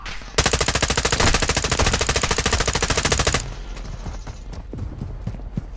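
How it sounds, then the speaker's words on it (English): An APC fires loud, rapid, evenly spaced automatic gunfire in the video game Modern Warfare II. It runs steadily for about three seconds and then stops, leaving quieter in-game ambience with scattered sounds. "I'm getting shot by an APC."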